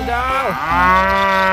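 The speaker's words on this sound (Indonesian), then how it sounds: "Ada sapi teman-teman." A cow moos loudly and close, one long drawn-out call that starts low and rises, heard alone with no talk over it.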